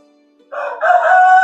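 A rooster on a poultry farm crows once, loud and close, starting after a brief quiet moment and carrying on to the end.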